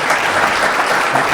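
Audience applause at an insurance symposium panel, a steady dense wash of clapping from a seated crowd, loud and continuous with no talk over it.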